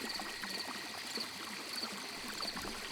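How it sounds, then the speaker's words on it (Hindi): Water flows steadily from a balcony in a horror animation, a constant faint trickling wash with a thin high tone running through it, alone and unchanging. "पानी तब भी बह रहा था।"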